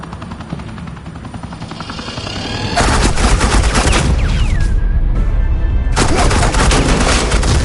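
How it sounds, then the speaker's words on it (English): Suppressing gunfire in the video game Batman: The Enemy Within, loud sustained automatic bursts that start after a few seconds of steady noise, break briefly, then resume with dense rattling shots. "suppressing fire."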